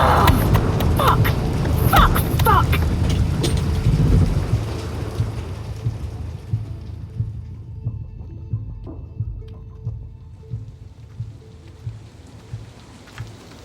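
In a video game, heavy rain pours in a dense, loud hiss while thunder rumbles low, then the downpour eases into sparser drops and patters over a continuing low rumble.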